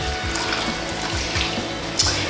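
A cup of water poured into a pot of nopales with onion, cilantro and garlic, a short, steady splashing gush heard close, with no talk.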